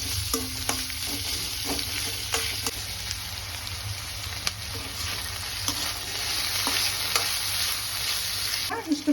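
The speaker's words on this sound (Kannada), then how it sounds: "ಮೆಣಸಿನಕಾಯಿನ ಅದಕ್ಕೆ ಆ್ಯಡ್ ಮಾಡಿಕೊಂಡು ಫ್ರೈ ಮಾಡ್ಕೊಳ್ತಾ ಇದ್ದೀವಿ" Four green chillies frying with browned onion in oil in a pan for chicken fry, a steady crackling sizzle with repeated sharp spatula taps and scrapes throughout, no voices.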